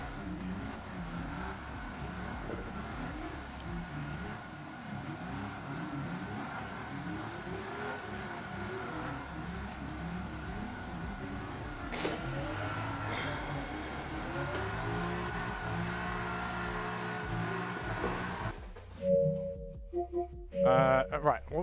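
Drift cars running down the track at Autopolis during an Apex Street Tour top 16 round, engines droning and revving with rising and falling pitch, mid-distance under steady background noise, with people talking over it.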